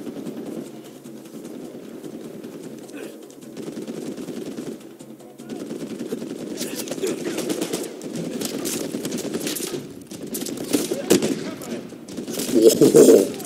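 Bursts of gunfire from a weapon in the video game Uncharted 4, rapid automatic-sounding shots under a steady layer of game ambience, getting louder and denser toward the end.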